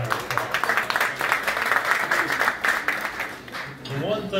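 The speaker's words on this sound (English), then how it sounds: "let's give her a round of applause." Dense, continuous applause from a crowd fills the whole stretch, a steady patter of many hands that thins slightly toward the end.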